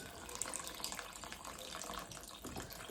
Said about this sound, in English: I'm going to add some more water to that so that it comes right up and covers over the bones.